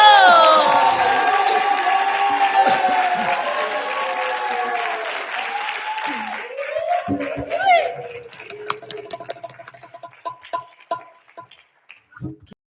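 A concert audience at a Mapuche-themed festival claps and cheers for a performer, loud at first, with whoops and a voice over it, then thinning to scattered claps that fade out.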